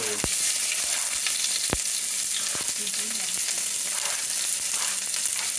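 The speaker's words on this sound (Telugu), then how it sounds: "ఆనియన్స్ వేసుకొని ఇప్పుడు కొంచెం ఫ్రై చేసుకోవాలి" Chopped onions sizzling in hot oil in a pan for a spinach-tomato curry in a home kitchen, a steady bright crackle with a few stirring knocks, no one speaking.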